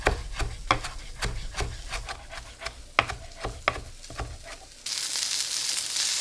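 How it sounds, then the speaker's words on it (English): A knife chops parsley on a wooden board in rapid, uneven taps close by, then a loud, steady sizzle takes over as a steak sears in a hot pan. "Now I'll go ahead and chop my parsley too."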